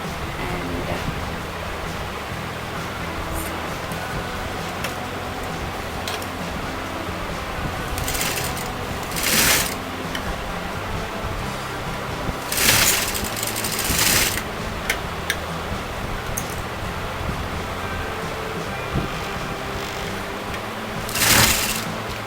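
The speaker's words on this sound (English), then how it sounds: "So I'm going to start sewing at this point" A sewing machine runs steadily as it stitches a V-shaped kurta neckline, a continuous close whirr with a few louder bursts where the pace picks up or the fabric shifts.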